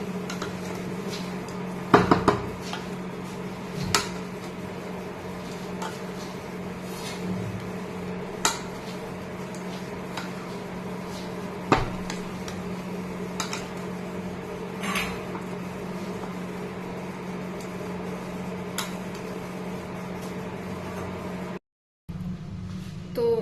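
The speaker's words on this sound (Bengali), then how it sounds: "ভালো করে মিশিয়ে নিচ্ছি।" Spoon clinking and scraping in a bowl while bread chaat is mixed with vegetables, salt, sugar, chili flakes, oregano and tomato sauce, with scattered sharp taps over a steady low hum and no talking.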